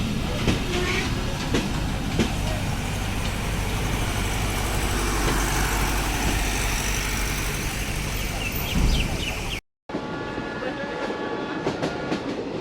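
The Rocket Mail train runs toward Natore in Bangladesh, a loud, steady rumble and clatter of wheels on rails heard from on board, continuous throughout before a brief cut.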